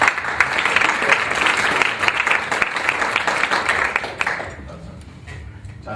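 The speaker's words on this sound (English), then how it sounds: "round of applause." An audience at a career-development talk applauds to welcome a speaker: dense, steady clapping from a sizeable crowd fills most of the stretch, then thins and tapers off toward the end.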